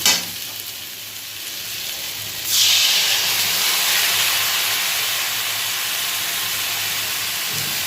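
Spices tipped into a hot pan of fried green banana set off a loud, steady sizzle that surges sharply partway through and keeps hissing evenly to the end, with no voices.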